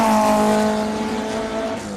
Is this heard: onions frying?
no